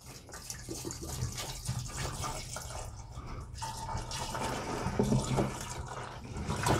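Strawberry mead mixture poured into a fermenter, a steady splashing, gurgling liquid flow heard close up and fairly quiet, with no talk.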